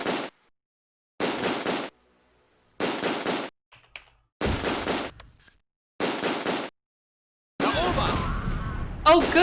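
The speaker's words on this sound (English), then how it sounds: "The scouts got hit by the mortar, too." Mortar shells exploding in the WWII tactics game Close Combat: A Bridge Too Far: five short, evenly spaced loud blasts with silence between them, then a longer stretch of continuous rumbling noise.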